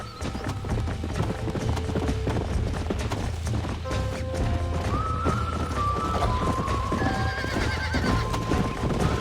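A wild horse whinnies and neighs loudly while its hooves pound steadily during a horse-breaking minigame in Red Dead Redemption, with a constant thudding rumble throughout and no talk.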